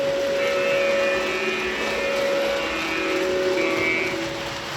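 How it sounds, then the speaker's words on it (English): A steady toy train whistle tone holds for several seconds over rumbling, clattering toy train noise, loud and continuous. "Okay, we're going to blow the whistle."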